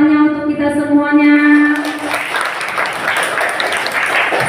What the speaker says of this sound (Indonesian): Tepuk tangannya untuk kita semuanya